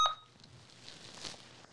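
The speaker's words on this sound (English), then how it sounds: "Oh, that's my alarm." An electronic alarm sounds at the start with a sharp, brief beep, then fades into quiet background noise with faint tonal traces.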